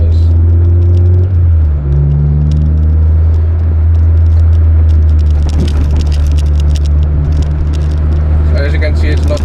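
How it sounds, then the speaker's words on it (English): Honda Ballade EG8 180i with a B20B8 non-VTEC engine on ARC coilovers driving over road bumps, a steady loud low engine and road rumble with thumps and rattles from the suspension, continuous throughout with a voice talking over it. "Deliberately driving through the bumps so you guys can see that you do not really require a kidney belt when driving with these coilovers."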